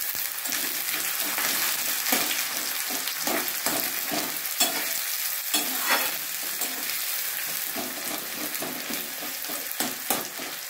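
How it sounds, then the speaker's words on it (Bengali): Chopped onion and green chillies fry in a pan with a bright, continuous sizzle up close, punctuated by frequent clicks and scrapes of stirring. "এবার দুটো কাঁচা লঙ্কা, এবার দিয়ে দেবো এর মধ্যে কেটে রাখা পেঁয়াজটা।"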